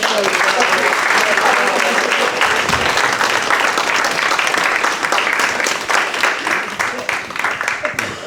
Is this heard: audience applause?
yes